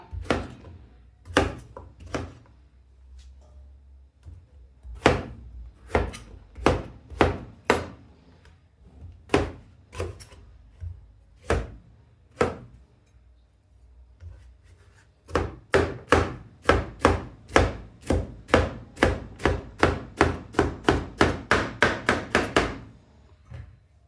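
A knife chops zucchini and cauliflower on a cutting board: sparse, irregular thuds at first, then a fast, even run of sharp close chops, with no talking.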